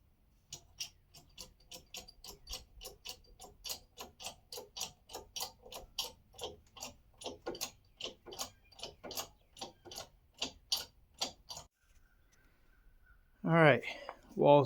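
A ratcheting jack clicks in a steady, rapid run of sharp pawl ticks while raising a farmhouse wall, then pauses before a brief burst of voice near the end.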